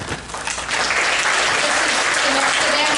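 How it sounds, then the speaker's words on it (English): Audience applause for contestants at the Miss Pocomoke 2023 pageant, a dense, steady clapping that swells after a brief quieter start and carries on loud and sustained across the hall. "Let's give her a round of applause, Savannah."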